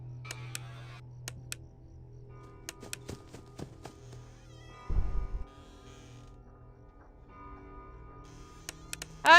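A pet cat lets out a single short meow right at the end, heard over quiet, sparse ticking and clicking from a horror video game. No one speaks.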